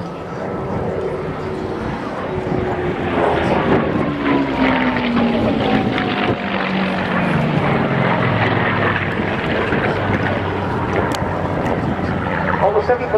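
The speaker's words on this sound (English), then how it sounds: "our two dogfighters running once more, this time the Spitfire chasing the Bouchon" A Spitfire flying in a dogfight display at the RIAT 2015 air show, chasing another warplane. A steady, far-off engine roar sweeps down in pitch as it passes, with wind noise throughout.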